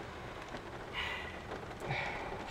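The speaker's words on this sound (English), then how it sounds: "Fucking rain." Faint, steady patter of rain, soft and diffuse with a couple of slightly louder swells, and no voices over it.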